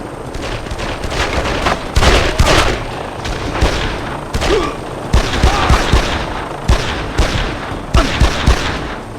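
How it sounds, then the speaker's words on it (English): Rapid bursts of gunfire from the video game Made Man ring out in repeated loud volleys across the whole stretch, sharp cracks layered over a dense, busy background of shots and booms. "Heard the gunshots?"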